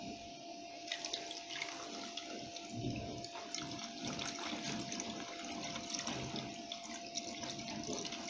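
Water runs steadily from a tap while Persil detergent residue is rinsed off, giving a continuous faint splashing flow with small irregular spatters and a thin steady tone underneath.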